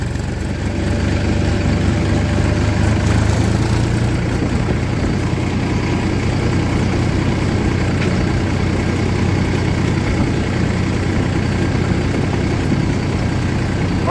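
A tractor hauling a loaded sugarcane cart from the mill, running in top gear at around 25 km/h, drones loudly and steadily with a low rumbling engine note and road noise throughout, with no one talking.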